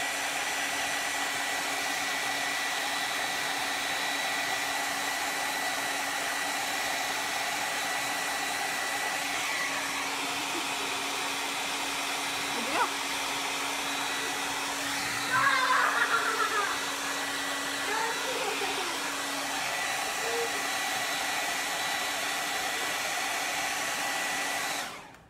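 A heat dryer blows steadily and loudly close by as shimmer paste dries on a chalk-stenciled door tag, one continuous whirring rush lasting about 25 seconds before it cuts off.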